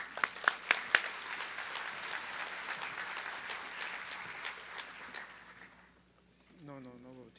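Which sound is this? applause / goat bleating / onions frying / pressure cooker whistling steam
applause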